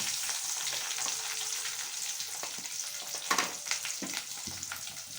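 Onion, garlic and curry leaves fry in oil with mustard seeds, a steady bright sizzle and crackle running throughout, with occasional stirring clatters and spatters.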